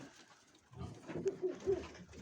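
Pigeons cooing at a Mykolaiv pigeon keeper's loft, soft low throaty coos in a few short pulses, moderately near, starting after a quiet moment.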